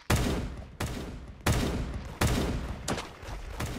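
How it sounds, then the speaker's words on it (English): Gunfire in the mobile game Da Hood, five sharp bursts of rapid shots arriving about every 0.7 seconds, loud and close, with no talking. "Who the hell is shooting me from the back?"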